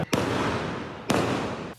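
Fireworks set off late at night on a Mid-Autumn Festival street in Renwu, Kaohsiung, give two sharp, loud explosive bangs about a second apart, each trailing into a crackling rumble, with a third starting at the end.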